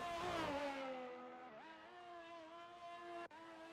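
An F1 car in the video game F1 23 sends out a clear, high engine whine that drops in pitch as it slows and then climbs again, with a brief cut near the end.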